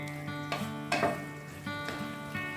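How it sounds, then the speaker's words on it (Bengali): Bottle gourd and prawns cook in a pan, giving a steady soft sizzle and bubble with a few louder stirring scrapes, close and without any talk. "এবার আর 2-1 মিনিট খোলাই আমি এটাকে ফোটাবো, আমি জলটা খানিকটা শুকিয়ে আনবো।"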